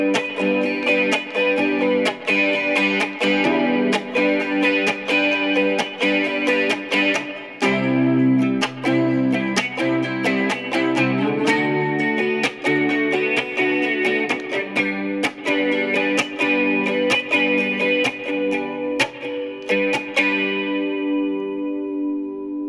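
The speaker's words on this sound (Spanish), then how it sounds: "Utilizo un poco de chorus, bueno, más bien mucho chorus, y utilizo un hall reverb" Electric guitar drenched in heavy chorus with a moderate hall reverb plays ringing chords and picked notes, shimmering and sustained, ending in a long reverberant decay.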